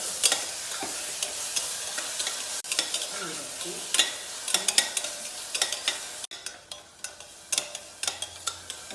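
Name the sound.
tomato and green chili stirred and frying with onions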